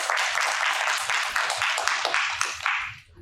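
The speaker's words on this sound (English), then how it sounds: "Please give them a round of applause." Audience at a school district presentation applauding, steady close clapping from a modest group that carries on for about three seconds before tapering off at the end.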